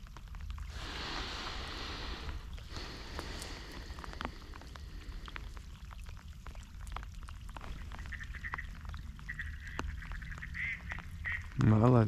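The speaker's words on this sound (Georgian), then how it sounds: "იხვი." A duck quacks during an outdoor hunt with dogs near a house, its nasal calls sounding at mid distance in repeated bursts over a damp, rainy background, ending with a louder nearby noise.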